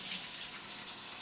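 Steady hiss of tap water running into a kitchen sink, splashing over chickpeas in a colander as they are rinsed, continuous and close with no voices.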